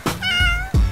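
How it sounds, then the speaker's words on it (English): A black and white cat gives a single clear, close meow with a rising then falling pitch, framed by brief rustling bumps at the start and end. "It's a beautiful black and white cat"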